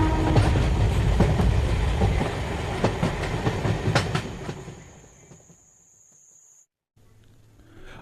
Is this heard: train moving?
yes